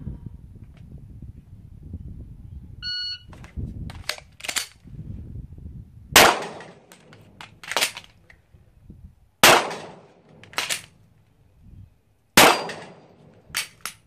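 Three sharp, loud gunshots crack at spaced intervals during live fire shooting practice, each followed by a brief echo, with quieter handling noises and a beep before them.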